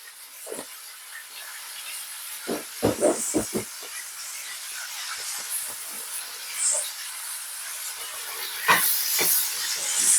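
Green beans sweating in a pan, seasoned with black pepper: a soft, steady hiss and sizzle, close by, broken by a few clinks and scrapes of utensils against the pan.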